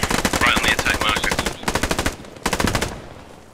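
Automatic weapons fire in the World War II shooter game Post Scriptum: loud, rapid machine-gun bursts rattle in quick succession, broken by brief pauses, then fade into a quieter tail.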